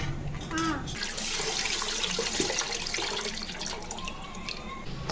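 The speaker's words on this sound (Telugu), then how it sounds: "ఎక్సెస్ వాటర్ అంతా డ్రైన్ అయిపోతుంది" Water trickles and drains steadily close by from soaked rice, a continuous running splash with small drips and gurgles, no one talking.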